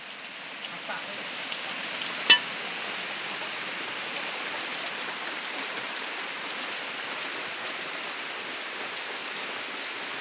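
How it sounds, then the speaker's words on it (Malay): Steady rain pattering on a surface, a dense even hiss throughout with one brief louder knock near the start. "Hujan."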